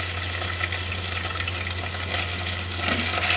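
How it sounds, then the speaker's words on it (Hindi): Shredded chicken frying in hot cooking oil in a pan, a steady close sizzle that continues throughout with no talking. "ये डाल के मैंने इसको 3 से 4 मिनट के लिए अच्छी तरह से फ्राई करना है।"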